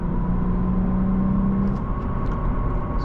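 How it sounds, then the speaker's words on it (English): Lexus IS 350 F Sport engine under steady acceleration as the automatic gearbox shifts on its own, a smooth, continuous rumble with a held tone that drops away partway through, heard from inside the cabin with no talk. "Let's put it in regular mode and let the car shift on its own now."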